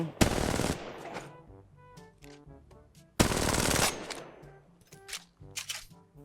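Automatic weapon fire from the mobile game Apex Legends Mobile comes in two loud, dense bursts, each followed by pinging and clinking game effects and quieter intermittent shots.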